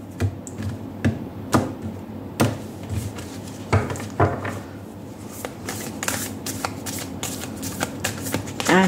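Oracle cards from the Angel and Ancestors Oracle and Prism Oracle decks being shuffled by hand, crisp riffling and tapping bursts at an uneven rhythm, close and clear, with no talking.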